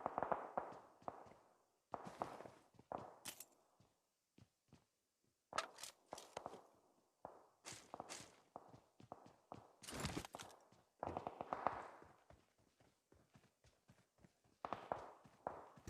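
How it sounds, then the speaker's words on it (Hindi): Footsteps approaching from behind inside a small house in a PUBG-style battle royale game, heard as sharp irregular thuds and clacks in bursts with brief gaps, fairly close and loud, with no talking. "तभी मुझे कुछ पीछे से फुटस्टेप्स आए"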